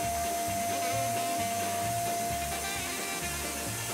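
A vacuum cleaner runs steadily with a constant whine and low motor drone, its nozzle stuck to a dog's belly, the hum continuing without a break.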